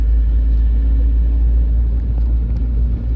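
A truck on the road gives a heavy, steady low rumble, loud and close, filling the whole stretch without a clear rise or fade, and no one speaks over it.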